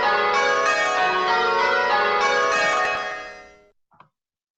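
Church bells ring a change with the treble striking after the second, the dense overlapping peal filling the first three seconds before decaying, followed by one faint isolated stroke near the end.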